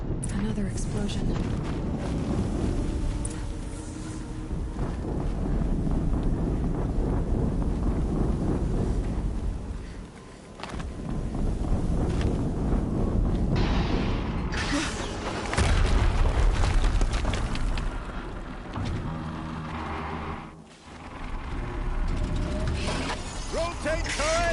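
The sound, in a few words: explosion in the video game Horizon Zero Dawn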